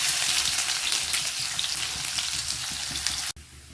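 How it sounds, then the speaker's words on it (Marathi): Cumin and finely chopped onion sizzle loudly in hot oil for a chicken liver curry, a dense, close crackling hiss with faint stirring, running steadily before cutting off abruptly near the end. "अर्धा चम्मच जिरा, त्यानंतर एक कांदा बारीक चिरलेला,"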